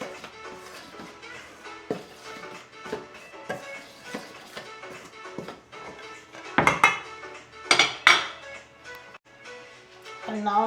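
Flour and baking powder being mixed in a bowl for avocado and raspberry muffins, heard as scattered utensil clinks and scrapes against the bowl, with louder clattering bursts near the end and soft kitchen movement throughout.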